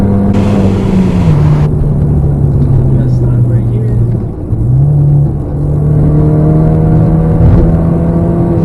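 A car on Accelera 651 Sport tires pulls hard along a road, its engine droning loud and close with pitch rising and dipping as it accelerates, while someone talks over it.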